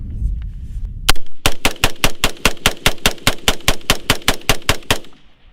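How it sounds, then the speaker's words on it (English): A semi-automatic firearm loaded with a 40-round magazine fires a fast, even volley of about twenty sharp, loud shots in close succession, then stops. No one speaks. "every time I pull the trigger there's going to be a bullet leaving out the end of the chamber"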